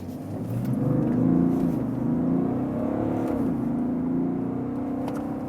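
A BMW 3-Series Touring G21 diesel pulls away from a traffic light, its engine swelling through the gears with a rising whir and a short dip between shifts, heard from inside the car.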